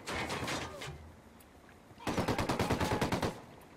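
Automatic gunfire in the Ghost Recon Wildlands video game, with a burst of rapid shots, a pause, then a second longer burst of rattling fire at moderate level, alongside faint speech.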